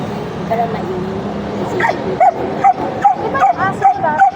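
A dog yips and barks in a quick run of short, high, whimpering calls that grow more frequent toward the end, close by, with people talking underneath.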